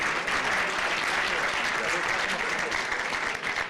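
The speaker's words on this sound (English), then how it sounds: "Give them a round of applause." Audience applause, a full, even roar of clapping that runs without a break from start to finish, with a voice faintly beneath it.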